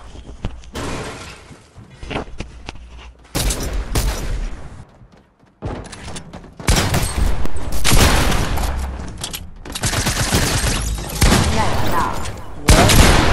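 Rapid bursts of gunfire from a Fortnite match crackle loudly in dense clusters, broken by a brief quiet gap, then resume as sustained volleys, with faint voice underneath.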